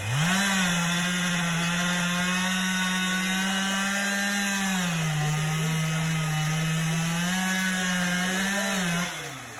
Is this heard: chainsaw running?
yes